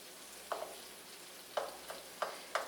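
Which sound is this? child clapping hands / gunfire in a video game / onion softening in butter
onion softening in butter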